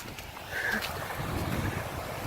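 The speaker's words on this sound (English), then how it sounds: "Look at this flow. It's a beautiful waterfall that usually never has water in it." Water rushing steadily over a normally dry waterfall swollen by rain, a continuous broadband roar with wind buffeting the microphone throughout.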